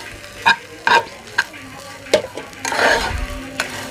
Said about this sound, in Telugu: ఇలా వేసిన తర్వాత మళ్ళీ కిందికి పైకి అంతా మొత్తం కలిసేట్టుగా కలుపుకోవాలి